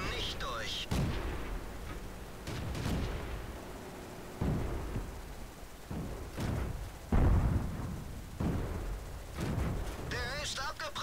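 Tank cannons boom repeatedly in World of Tanks battle, a series of heavy broadband blasts spaced a second or two apart over continuous battle noise, with voices talking in between.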